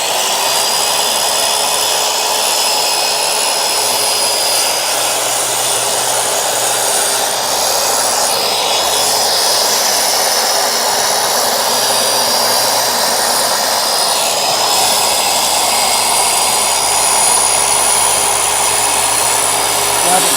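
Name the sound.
skill saw (circular saw) cutting wood along a clamped straight edge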